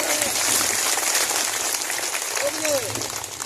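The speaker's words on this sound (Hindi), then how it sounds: "जोरदार ताली बजा करके इनका" Crowd applause at an outdoor political rally, a broad continuous wash of clapping that swells and lingers, with a voice over a loudspeaker briefly heard over it.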